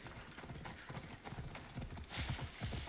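Hooves clip-clop in a quick galloping rhythm as a horse runs in the Assassin's Creed Odyssey video game, fairly close and steady, with a brief brighter rush of noise near the end.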